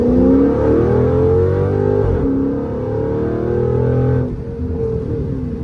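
A Dodge Charger SRT8 launches from about 1500 rpm with traction control on and accelerates hard toward 60 mph, its loud engine droning and rising through gear changes, close and continuous.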